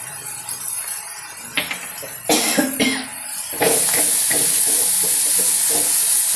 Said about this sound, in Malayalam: ചുമയ്ക്കുമ്പോൾ മുഖം തിരിച്ച് ചുമയ്ക്കുക